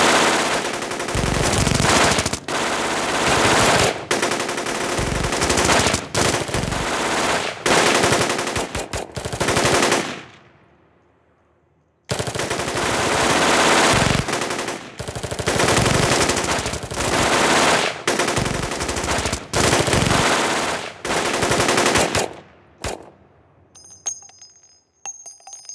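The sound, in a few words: gunfire in a military show re-enactment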